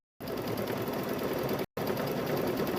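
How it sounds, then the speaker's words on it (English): An embroidery machine quilts a patchwork gnome quilt, its fast, even stitching hum loud and close, running steadily with one brief pause before resuming. "So we are quilting on an embroidery machine"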